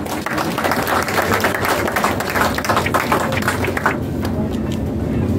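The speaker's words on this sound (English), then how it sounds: "Give him another round of applause" Steady, dense applause from a crowd at a groundbreaking ceremony honouring Prime Minister Andrew Holness, sustained for several seconds before thinning slightly at the end.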